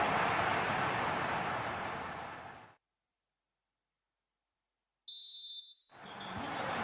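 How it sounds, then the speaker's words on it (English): Referee's whistle in a GT Sports racing-league football match: a single sharp, shrill blast under a second long, heard alone in a silent gap between stretches of loud, roaring crowd noise. "The whistle is sounded."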